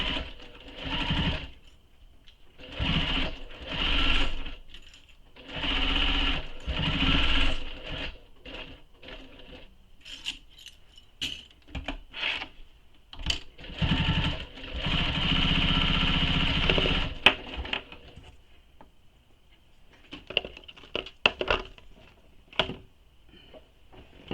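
A sewing machine top stitches all the way around a handmade satchel bag, running in repeated bursts of motor whir with short pauses between, fairly close and steady, with a longer continuous run midway and quieter handling sounds near the end.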